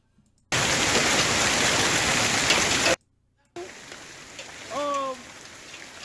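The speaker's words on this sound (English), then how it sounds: "This is April 24th. Hailstorm. This is in Georgia." Hailstorm in Georgia, a loud dense roar of pelting ice that cuts off suddenly and is followed by a quieter stretch of patter with a short whistling tone over it.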